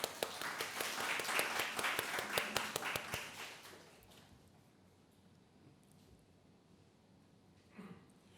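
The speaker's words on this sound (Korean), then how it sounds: "송혜빈님 우리 박수로 환영하겠습니다." Applause from a church congregation welcoming a newcomer during a Sunday service, a dense burst of many hands clapping for about four seconds before fading into quiet room tone.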